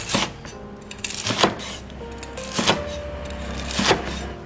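A knife crunches through crispy fried pork belly in several sharp cuts, each ending with a light tap on a board, close and fairly quiet.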